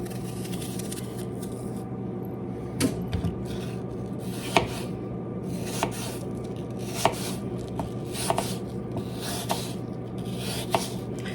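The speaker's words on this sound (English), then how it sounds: "we just want to cut them about 1/4 inch and nice and uniform" A knife slices apples into quarter-inch pieces for a dehydrator, giving sharp cutting-board taps at a steady unhurried pace, about one every second, close by over a constant background hum.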